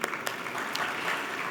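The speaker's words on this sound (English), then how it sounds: "A round of applause for them." An audience at the AOW:Energy 2025 conference applauds steadily, a dense wash of many hands clapping at moderate volume with no voices over it.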